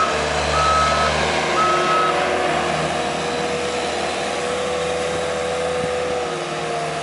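Reversing beeps sound twice over the steady rumble of a working site as a Cat 287B tracked skid steer with 3,700 hours loads a 10-wheel dump truck, engine noise loud and continuous throughout.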